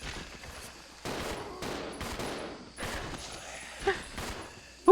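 Gunfire in the Resident Evil 0 video game: several sharp bursts of shots spaced over a few seconds, with brief exclamations and other game sounds between them.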